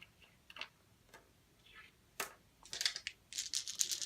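Several dice rolled in a tabletop game, light clicking taps then a quick rattle of dice clattering together, close and quiet.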